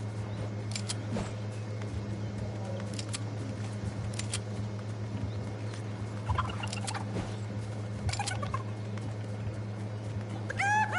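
A chicken in the Fortnite video game gives short, scattered clucks over a steady low hum of game ambience.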